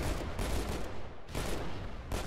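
Assault rifle gunfire in the Halo Online (ElDewrito) video game roars in dense, loud bursts of rapid fire, broken by two brief pauses.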